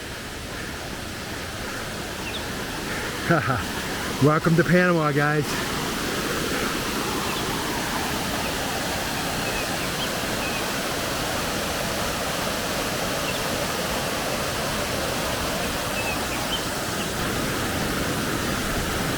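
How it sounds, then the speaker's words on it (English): A waterfall in the Panama cloud forest roars close by, a dense steady rush of water throughout, with a short burst of someone talking near the start. "we're getting up here real close to the waterfall"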